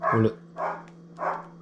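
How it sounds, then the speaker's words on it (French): Inside a home kitchen, a dog gives three close, evenly spaced barks, fairly loud and alone. "Fifi, c'est le nom de mon chien"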